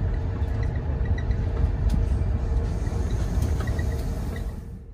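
Steady rolling rumble from inside an SNCF double-decker train on the French Riviera line, with a low continuous drone and faint high squeals that fade out at the very end.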